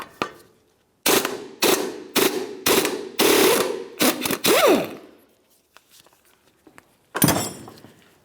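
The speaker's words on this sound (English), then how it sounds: "Use a 24mm socket to remove the nut." A ratchet with a 24mm socket loosens a nut on a 2002-2005 Ford Explorer front suspension, giving several loud bursts of rapid clicking in quick succession, then a pause and one final burst.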